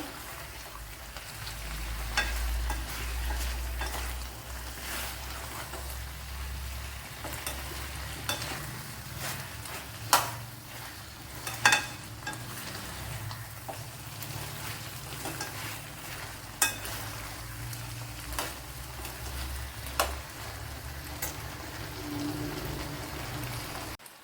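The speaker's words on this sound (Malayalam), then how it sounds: "ഇവിടെ നല്ലതുപോലെ ഇതുപോലെ വഴറ്റി എടുക്കണം" Shallots and onions sauté in a pan for drumstick curry, with a steady soft sizzle and occasional clacks of stirring throughout, heard close and fairly quiet with no voices.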